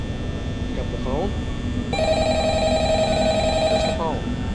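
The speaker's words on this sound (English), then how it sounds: "Pick up the phone." A telephone rings in the horror video game Five Nights at Freddy's, a steady electronic ring lasting about two seconds over a constant low background hum, with brief chirpy sounds just before and after it.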